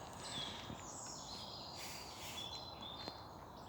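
Outdoors at Knott End-on-Sea on a sunny February afternoon, a few faint, scattered bird chirps rise above a quiet, steady hiss of open air.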